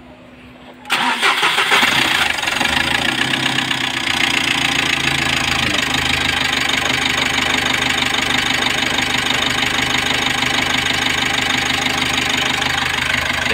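Car engine starting after an overhaul, cranking briefly and then catching into a steady, loud idle that runs on close by with a slight knocking edge.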